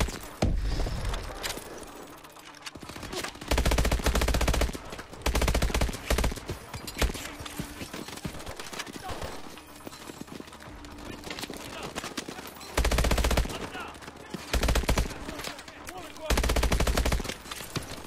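Gunfire in the Call of Duty: Advanced Warfare campaign, with loud bursts of automatic weapons repeating in clusters amid quieter stretches of battle noise and a voice talking between shots.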